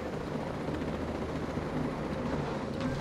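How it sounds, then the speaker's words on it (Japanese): An enemy helicopter flies in the Ghost Recon Breakpoint video game, a steady low rotor drone and engine rumble holding constant and fairly loud for the whole stretch with no talk. "待て、またヘリ、また敵のヘリが飛んでる。"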